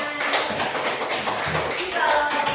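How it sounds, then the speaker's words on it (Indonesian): Students in a classroom give a short burst of applause, a dense patter of hand claps lasting a couple of seconds with a faint voice at the end. "Beri tepuk tangan."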